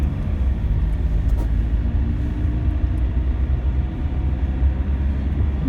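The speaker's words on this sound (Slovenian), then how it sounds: "Tako zdaj pa imamo celotni krožni promet." Road traffic circles the large Tomačevo roundabout in Ljubljana in light rain, a continuous, fairly loud rumble of passing vehicles with no talking.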